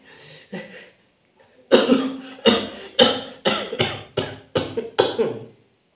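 A woman coughs repeatedly, starting with a faint cough followed by a pause, then a rapid series of seven or eight harsh, close coughs in a steady rhythm.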